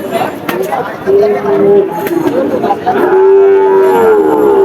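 Cattle moo loudly and up close at a busy livestock market in Chaugachha, Jessore, with two long lowing calls standing out over crowd chatter and background noise.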